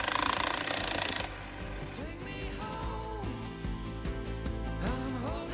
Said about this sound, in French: on a pris un gros marteau-piqueur